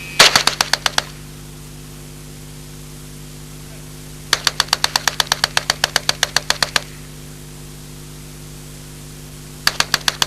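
A 1977 Alan Halla experimental prototype low-recoil submachine gun fires Federal ammunition in three bursts, a short rapid string, a longer burst of about a dozen sharp reports, and a brief final burst, over a steady background hum.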